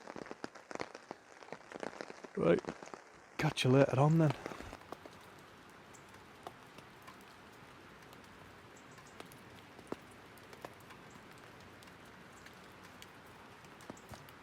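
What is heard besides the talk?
rain dripping on camp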